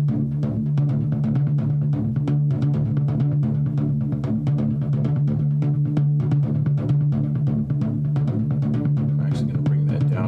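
Virus and Omnisphere synthesizers layered together, the Omnisphere part heavy with delay: a steady low sustained drone under a dense, rapid stream of rhythmic note attacks, loud and continuous with no voices.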